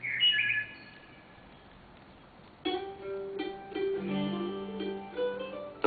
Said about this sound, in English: that sweet, soft singing of the birds